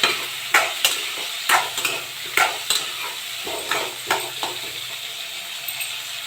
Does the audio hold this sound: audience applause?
no